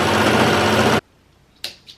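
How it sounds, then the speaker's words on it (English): A serger stitching along a fabric strap runs in one loud, steady mechanical buzz for about a second, then stops abruptly, followed by two short faint clicks or handling sounds. "I'm going to use my serger"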